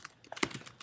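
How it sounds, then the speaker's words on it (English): Code being typed on a computer keyboard: a quick burst of close, crisp key clicks in an uneven rhythm, one louder keystroke standing out, with no voices. "So to do this, we're going to type in"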